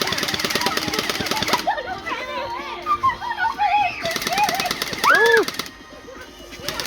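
A BB gun fires pellets in quick rattling bursts, with ricochets snapping around, while a voice and short exclamations come in between the volleys.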